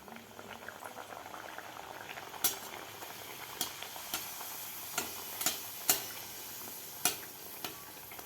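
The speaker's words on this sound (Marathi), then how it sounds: "व्यवस्थित गरम झालेलं आहे तेल आपलं आपण पुरी सोडूया" Mango puri, made with mango pulp in the dough, fries in hot oil, giving a steady bubbling sizzle with several sharp pops and crackles scattered through, close and with no voices.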